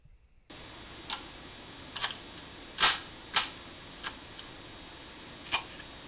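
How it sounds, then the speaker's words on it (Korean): Knife chopping food on a cutting board in a kitchen: a faint, quiet series of sharp single taps, irregularly spaced about a second apart, with no talking. "칼 써는 소리가 들리시죠?"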